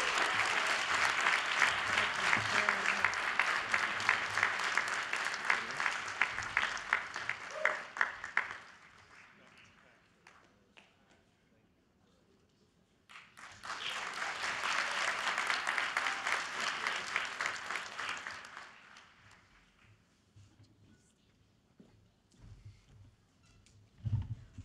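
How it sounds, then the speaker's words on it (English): At a School of General Studies class day honoring 21 years of leadership, a crowd breaks into hearty applause, falls quiet for a few seconds, then erupts in a second strong burst that slowly fades away. "Please, a round of applause."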